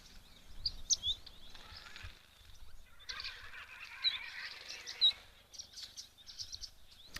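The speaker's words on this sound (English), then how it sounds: "Looks like our firefinches and waxbills are here again." Small birds, firefinches and waxbills, gather at a waterhole and give faint, high chirps and tweets in scattered bursts against a quiet background.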